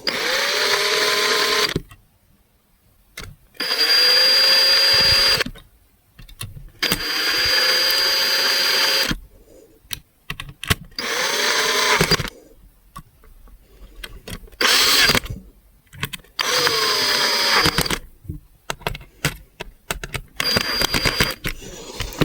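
A heavy 2-kilogram electric drill whirs in repeated bursts, loud and close, spinning up and cutting out several times with short quiet gaps and clicks between, while a laptop is disassembled.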